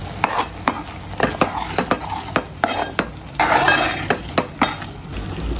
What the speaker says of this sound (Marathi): ಗರಂ ಮಸಾಲ ಮಿಕ್ಸ್ ಮಾಡಿ